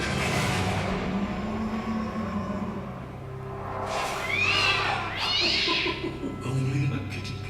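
A cat meows a couple of times in a broadband advertisement, the high calls rising over a busy background of engine-like rumble and other sounds.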